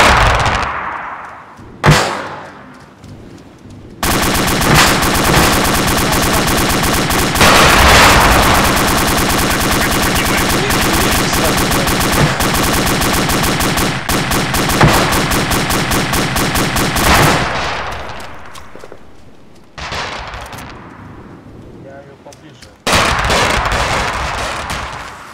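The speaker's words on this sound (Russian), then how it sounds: "Пулемет снайпера, работайте по пехоте." Sustained automatic machine-gun bursts mixed with single rifle shots in the military game ArmA 2 with the ACE mod, loud and dense for long stretches, with a few isolated reports before and after the main barrage.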